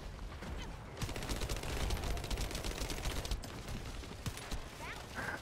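Dense, continuous gunfire from a first-person shooter, The First Descendant, using a Thunder Cage build against a boss: loud rapid shots with mechanical clatter filling the whole stretch, with brief faint talk.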